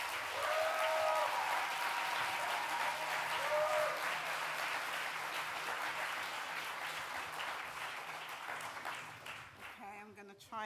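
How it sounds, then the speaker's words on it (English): A festival audience gives warm applause for Esther Stanford-Xosei, sustained clapping from many hands that gradually thins and fades toward the end, with some voices mixed in. "A warm and big applause for Esther."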